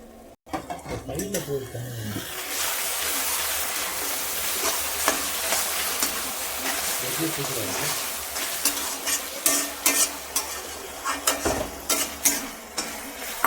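Potato gravy sizzles and bubbles steadily in a pan on the stove as the oil separates, a thick, constant hiss with a few utensil clinks and scrapes toward the end.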